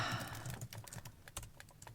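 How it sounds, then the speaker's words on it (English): Rapid, quiet clicking of computer keyboard keys in a closet late at night, an irregular patter of soft taps that goes on without pause. "This is me, typing out a list of my overwhelm in the closet at 11 p.m. at night."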